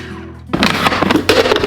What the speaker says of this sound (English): we will use our food processor again